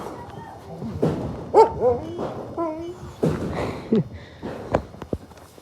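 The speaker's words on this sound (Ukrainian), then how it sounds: "До нас прийшли інші собаки." Several dogs gather near hay spread for them, giving short barks, yips and whimpers that come and go irregularly, near and fairly loud, mixed with the rustle of movement.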